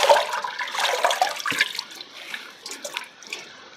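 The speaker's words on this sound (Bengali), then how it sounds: "এখন আবার একটু পানি দিয়ে এই যে এরকমভাবে ধুয়ে নেব।" Leaves being rinsed in water while cooking, splashing and sloshing that is louder at first and then thins into scattered trickles and drips.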